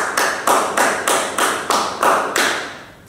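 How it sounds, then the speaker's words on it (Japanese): Seven crisp, evenly spaced claps or taps ring out alone in steady rhythm, each sharp and close with a short decaying tail. "ちゃんと拍手してる？"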